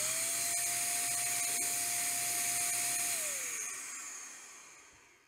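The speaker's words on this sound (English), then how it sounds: "This here's a vacuum cleaner" An electric leaf blower used as a vacuum cleaner runs with a steady loud whine and broad airy roar, then winds down and fades over the last couple of seconds.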